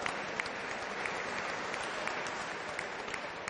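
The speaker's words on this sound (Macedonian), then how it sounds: "Еден аплауз за сите странски репрезентации." Steady applause from a sports-hall crowd for the visiting foreign wrestling teams at an international wrestling tournament final in Skopje, dense even clapping that holds at one level throughout with no talk.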